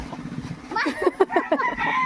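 A fighting-breed rooster with many scales lets out a short series of clucking, crow-like calls close by, after a stretch of low background noise.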